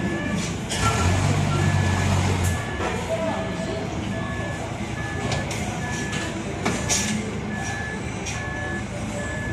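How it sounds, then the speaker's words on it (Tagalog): Steady electronic reversing beeps repeat at an even pace from a forklift lifting a vehicle, sounding over a low engine rumble and workshop noise while people talk nearby. "Uy, hinilangan tayo ng forklift."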